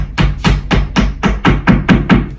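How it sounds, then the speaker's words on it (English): Plastic wall anchors being hammered into a wall during a shower glass door installation, eight sharp, evenly spaced hammer blows ringing out loud and close with no speech. "We're just going to hammer them in as much as we can."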